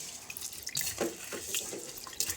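Rice and lentils being washed under a running kitchen tap, a soft, close trickle of water with light splashing and sloshing of grains, fairly quiet and with no voices.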